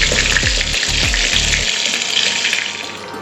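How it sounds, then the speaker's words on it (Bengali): Pointed gourd (potol) pieces frying in oil in a pan, a loud, dense hiss of sizzling that holds steady throughout, with a few low knocks near the start; no speech. "আর যে কটা বাকি আছে সেগুলো দ্বিতীয় পর্বে ভেজে নিচ্ছি"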